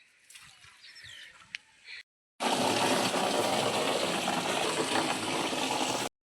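Water gushes loudly into drums and other vessels, a dense, steady rush that starts abruptly after a short quieter stretch and then cuts off. No one speaks.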